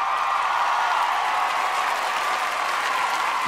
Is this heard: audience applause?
yes